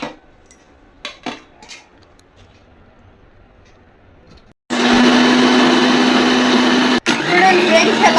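A mixer grinder blends cut watermelon pieces, starting abruptly after a few quiet clinks and handling noises and running as a loud, steady whirring roar for over three seconds, with a momentary break.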